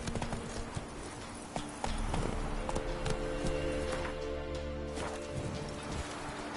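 Hooves of Roach, Geralt's horse in The Witcher 3, pound in a fast steady gallop over a continuous rumble, with game music or ambience layered underneath throughout.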